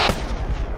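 A hand grenade exploding in the Arma 3 video game, a single heavy boom at the start with a dense low rumbling tail that rolls on for the rest of the short moment.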